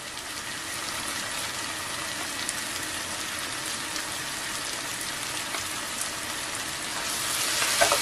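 A pot of tomato sauce made with tomato paste, a spoonful of sugar and parsley is stirred while it simmers, giving a soft, even, sizzling hiss that stays faint and constant throughout.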